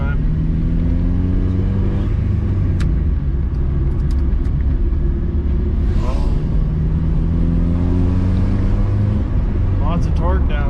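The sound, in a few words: car with Honda H22A engine driving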